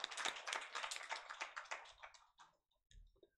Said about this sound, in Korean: 이거 동영상 만드느라 수고해준 이소연 선생님한테 다시 한번 박수.